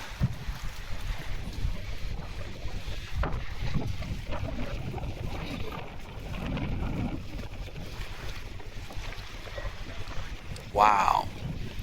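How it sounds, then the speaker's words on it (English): Steady wind rushing across the microphone outdoors in Northport, Long Island, New York, a constant low roar with gusts, and a brief burst of other noise near the end. "It's too windy out."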